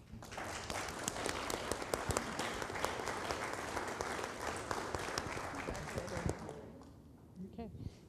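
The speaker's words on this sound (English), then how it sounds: "So I just want to thank you and give you all a round of applause as well" A large audience at a community safety meeting gives a loud, dense round of applause that runs for several seconds and then tapers off, leaving quiet room tone and faint murmurs at the end.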